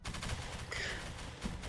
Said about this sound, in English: I am hearing gunfire towards the dragoons.